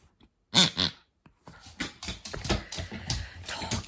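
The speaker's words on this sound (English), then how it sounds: "The dog's now found a pig toy." A squeaky pig toy gives two sharp oinking squeals, followed by a dog's snuffling, chewing and rustling close by, with short irregular noises.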